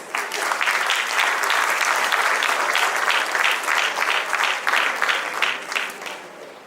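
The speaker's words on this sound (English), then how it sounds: "A big round of applause for them, please." Sustained applause from an audience at an awards ceremony and debate event, steady dense clapping that carries on for several seconds before tapering slightly, with no speech over it.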